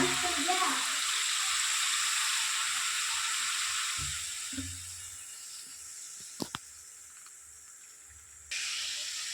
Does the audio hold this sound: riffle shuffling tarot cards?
no